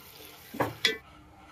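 Shredded cabbage frying in a pan for egg fried rice, with two quick stirring scrapes of a utensil over a faint, close sizzle.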